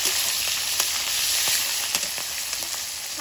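Green chillies fry in a pan for a vegetarian dal tempering, throwing off a loud, continuous, close sizzle with a few scattered crackles and pops.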